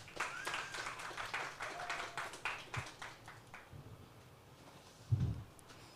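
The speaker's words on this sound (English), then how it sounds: "Give him a big round of applause." An evening literary gathering in Kigali, Rwanda, gives a modest round of clapping for a speaker, a smaller group whose claps are individually audible and fairly distant, trailing off after about four seconds, followed by a brief low thump.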